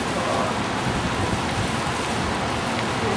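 Heavy rain pours steadily outside a second-floor room in Paris, a dense, unbroken hiss of drops drumming on surfaces that stays loud and constant throughout, with no voices.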